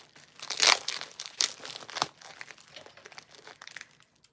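Bubble wrap is pulled out of the bottom of a package, crinkling and crackling in uneven bursts close by, loudest early on and then trailing into softer rustles.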